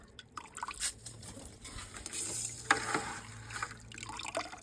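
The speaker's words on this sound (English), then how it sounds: "Got to strain out the ice." Lake water strained to remove ice outdoors on a cabin deck in spring, steady gurgling and trickling with light knocks of ice, close and fairly quiet, with no one talking.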